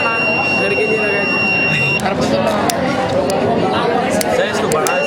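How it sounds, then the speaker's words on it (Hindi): A buzzer in a school science experiment sounds a steady high electronic tone for about two seconds, partly masked by loud classroom chatter and voices that continue throughout. "बजर बजेगा, और बजर बजेगा"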